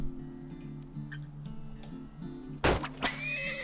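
A horse in the video game Turmoil lets out a short, sharp whinny over steady game music and low ticking, standing out loudly near the end.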